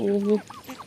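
Turkey hens on a village farm give a short burst of harmonic clucking, then softer scattered calls fade under it; a voice speaks lightly in the background.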